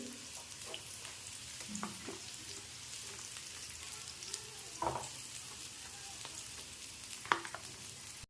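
Onions sautéing lightly in a pan for Maharashtrian misal pav, giving a soft, steady sizzle with occasional stirring scrapes, fairly quiet and close, with no talking.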